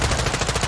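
Rapid gunfire from Call of Duty: Modern Warfare 2, shooting through a wall: a dense, loud, continuous burst of automatic shots in quick rhythm with no talk over it.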